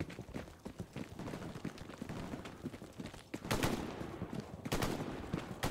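Rapid bursts of gunfire in the video game Hell Let Loose crackle in quick volleys, with louder, denser shots surging near the end, no speech.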